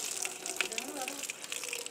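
Water gushes and splashes steadily into a newly dug garden pond, a continuous moderately faint flowing rush.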